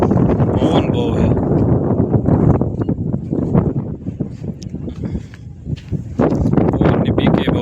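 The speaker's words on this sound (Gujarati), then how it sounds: "પવન બહુ છે." Strong wind blows across a building site where a slab is being fitted, a continuous low rumbling buffet against the microphone that swells in gusts, with people talking nearby.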